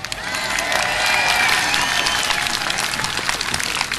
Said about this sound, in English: we can cheer and whoop and holler right now